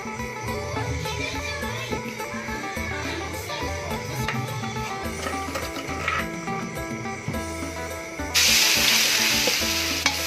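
Field crab stir-fried in a wok with American sauce sizzles and crackles loudly and steadily, with scraping stirs and a brighter burst of hissing near the end; no one speaks.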